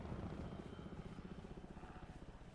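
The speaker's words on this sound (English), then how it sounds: "Oh, here comes that helicopter again. Oh, that must be that helicopter that makes that whooshing noise." A helicopter flies over in the video game Arma Reforger, a continuous rotor whoosh with rhythmic thumping pulses, faint and distant.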